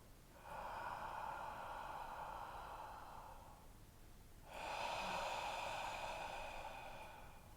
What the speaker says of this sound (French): on inspire de la même façon qu'on expire, on va inspirer avec le fond de la gorge